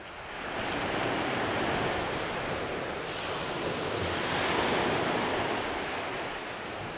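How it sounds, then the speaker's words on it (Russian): Steady broadband wash of surf rolling onto the shore at Lyubimovka beach, with wind buffeting the microphone throughout; continuous and fairly loud, no voices. "Мы в Любимовке на пляже."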